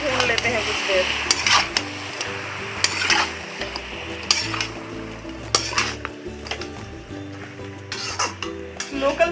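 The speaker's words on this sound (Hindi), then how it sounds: "तो डाल लेते हैं, और इसे भी हम लोग भून लेते हैं कुछ देर।" Local chicken sizzles in a pan while a spoon stirs and scrapes against the metal in irregular strokes, close and fairly loud, with a steady frying hiss underneath.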